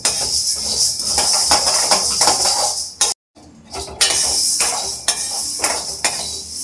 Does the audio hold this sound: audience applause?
no